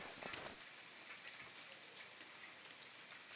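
Soft, steady rainfall in the video game The Forest patters with a faint hiss, quiet and even throughout with occasional louder drops.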